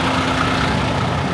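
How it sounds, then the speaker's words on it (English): A truck's engine idles close by in warm, muggy morning air, a steady low rumble with a constant even drone and no breaks throughout. "we've got the engine going to stay cool."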